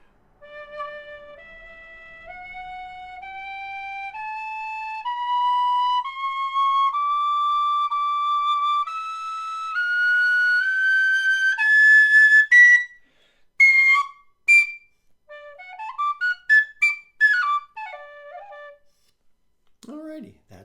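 A high D tin whistle made by Lir climbs note by note up a scale, clear and sustained, then plays a short run of quicker notes before stopping.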